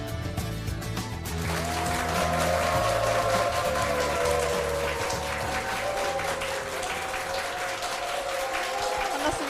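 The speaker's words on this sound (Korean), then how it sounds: "우리 회원분들의 박수와 함성으로 시작을 했습니다" Church event crowd clapping and cheering, a continuous dense wash of applause with a sustained tonal line running underneath.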